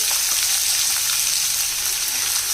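Sliced onions frying in hot oil in a pan for mutton brain fry, a dense, steady close sizzle with a continuous crackling hiss and no talking.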